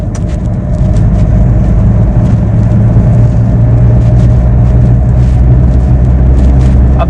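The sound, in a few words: car accelerating on road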